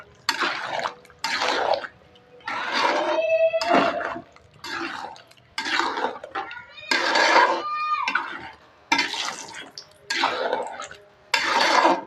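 Mango chicken curry is scooped and served onto a small serving plate, with a spoon clinking and scraping against the pot and plate in repeated bursts, close and clear.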